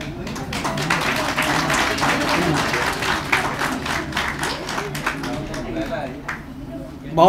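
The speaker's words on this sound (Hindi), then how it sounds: "तालियां बजाते रहिए आप लोग" An audience at an excellence recognition ceremony in Lucknow keeps up steady, dense applause, many hands clapping close by while a voice speaks over it.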